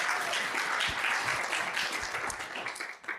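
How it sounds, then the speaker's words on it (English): A live podcast audience gives a round of applause, sustained crowd clapping that holds steady before thinning out and tapering near the end. "Let's give Mark a round of applause for putting this together."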